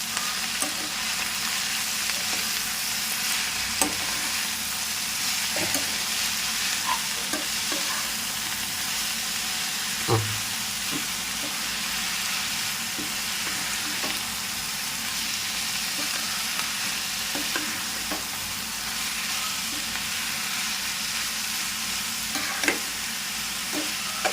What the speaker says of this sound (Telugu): కొద్దిగా ఒకసారి అంతా కలిసేటట్టు కలుపుకుందాం